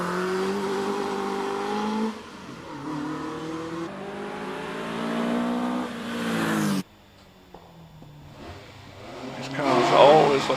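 A yellow 1700cc Caterham race car accelerates hard up the Prescott hillclimb course, its engine note climbing through several gears before dropping back and rising again. A commentator talks over the engine throughout.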